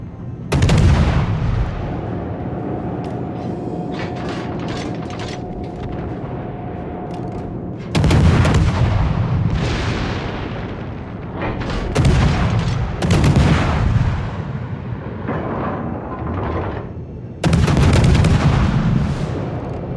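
Warship artillery guns fire in the World of Warships naval game, heavy loud booms arriving in separate salvos with rumbling echoes and smaller gunfire between them.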